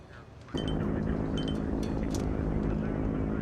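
In a Tagalog action movie scene at an air base, a transport plane being loaded with gold sends out a steady, loud propeller-engine drone that starts abruptly and holds without break.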